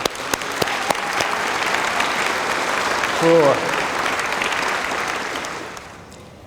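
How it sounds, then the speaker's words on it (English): Crowd at an Orange Shirt Day gathering with the Splatsin community breaks into sustained applause, a broad steady roar of clapping that fades toward the end, with a brief spoken word over it. "How about a round of applause for everybody?"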